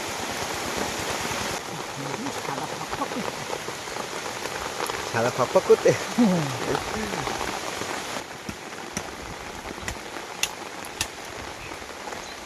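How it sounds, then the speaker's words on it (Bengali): Steady rain pours over an outdoor tree-planting job in the Sundarbans, a close, constant hiss under brief voices of people talking. "বৃষ্টি মাথায় ভিজে ভিজে কাজ করা হচ্ছে"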